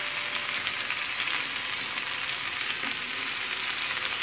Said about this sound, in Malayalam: നന്നായിട്ട് ഈ എണ്ണയിലൊന്ന് വാർത്തി എടുക്കണം